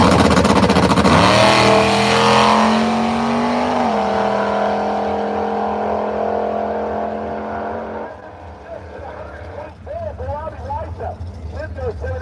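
A Buick drag racing car at Brainerd drag strip, its engine roaring loudly and steadily with a rising then held pitch before dropping away, followed by fainter engine noise, with a commentator talking throughout.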